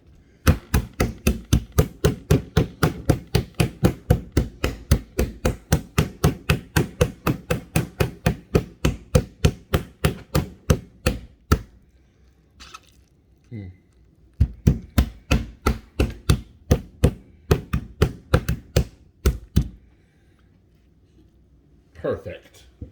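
A hammer pounding chicken breast flat for chicken parmesan, dozens of rapid, loud, evenly spaced thuds that pause, resume and thin out to a few final knocks, with no talking.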